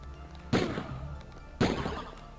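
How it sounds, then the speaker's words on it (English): Two heavy, spaced gunshot-like bursts from an MP5 submachine gun in a video game demo, each a sharp loud blast with a short decaying tail, about a second apart, over a low background hum. "MP5, yeah. Rapid fire."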